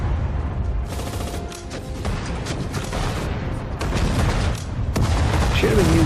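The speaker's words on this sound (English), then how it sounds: "Let's use the anti-tank grenade here." An anti-tank grenade goes off amid a World War II battle in Sudden Strike 4, Battle of the Bulge, with dense overlapping gunfire, bursts and booms, loud and continuous, plus mechanical clatter.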